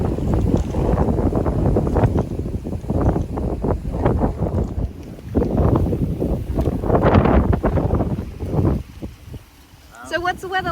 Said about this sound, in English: It's a little too windy, just a little bit.